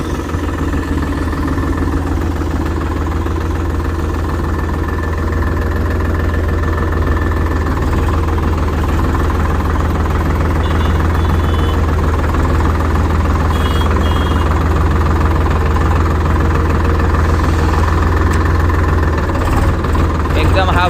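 A Sonalika DI-745 III Sikander tractor runs in gear with a loud, steady diesel drone and a low rhythmic throb, with someone talking over it.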